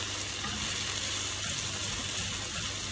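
Black fish, onions and vegetables fry in a pan with a dense, constant sizzle, close and evenly loud throughout, with faint stirring underneath.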